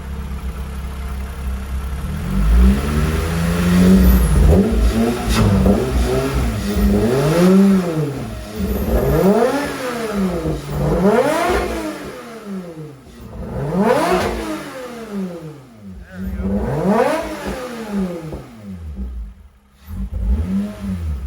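A Toyota MR2 SW20 with a swapped 2GR V6, running with a check engine light on, revved repeatedly in close rhythmic blips that rise and fall over a steady idle.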